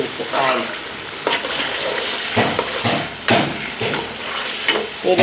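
Shol fish sautéed in a pan gives off a close, steady sizzle, broken by repeated bursts of stirring and scraping spatula strokes.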